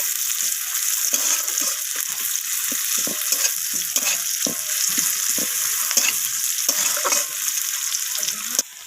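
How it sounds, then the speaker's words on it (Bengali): Onion and garlic frying in a pan: a steady, bright sizzle runs throughout with repeated scrapes and stirring strokes of a spatula, close and fairly loud with no talking. "পেঁয়াজ ভাজা থেকে আর রসুন ভাজা থেকে একটা সুন্দর গন্ধ বেরিয়ে তো ততক্ষণ আমি এটাকে ভেজে নেব"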